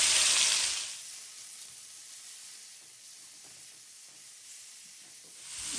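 Onions and green seasoning, for Guyanese pumpkin and fish, fry in about a quarter cup of oil: a bright sizzle that quickly settles into a soft, steady hiss, fairly close, then rises again at the end.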